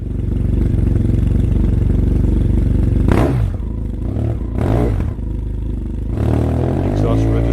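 A motorcycle fitted with a Two Brothers M2 carbon fiber exhaust and P1 power tip runs loud and close, with a steady engine drone broken by two sharp revs and a third rising rev near the end.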